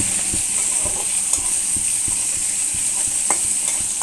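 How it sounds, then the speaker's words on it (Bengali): Onion and green chilli frying in hot oil for a small-fish curry, a steady close sizzle with a spoon scraping and stirring in a regular rhythm, no voices. "মরা মাছ রান্নার জন্য পেঁয়াজ কাঁচা মরিচ ভেজে নিতে হবে"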